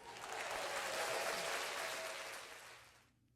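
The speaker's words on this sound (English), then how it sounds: "After the applause." A burst of clapping from an audience, steady and full for about three seconds before tapering off into quiet.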